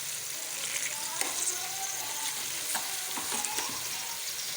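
Spices and a little water frying in a pan for mung dal, a constant bright sizzle with occasional soft clinks and stirring scrapes, close and even throughout, with no speech.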